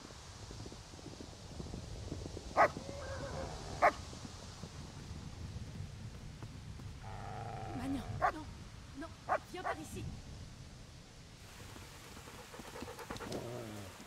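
A dog barks twice in the medieval role-playing game Kingdom Come Deliverance, sharp distinct yaps standing out over low game ambience, followed by a cluster of further barks and yelps as a voice talks.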